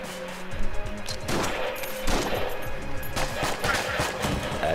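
Shotgun blasts in the Enter The Gungeon video game, several loud, punchy shots at irregular intervals amid game music and effects.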